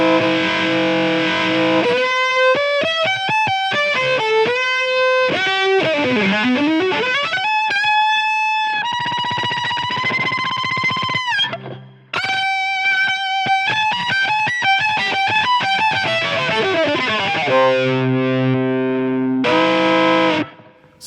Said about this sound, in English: I'm going to add in the phaser patch, which is triggered by foot switch 1,